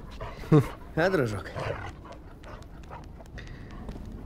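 A wolf companion in the Until Dawn Remake video game whines and pants in short yelping bursts near the start, then grows quieter beneath someone talking over soft game ambience.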